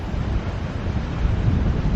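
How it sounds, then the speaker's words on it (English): Ocean waves breaking on a shore, heard outdoors as a continuous broadband wash of surf mixed with wind buffeting the microphone, fairly loud and steady with no voices. "Out here there's like a breaking wave."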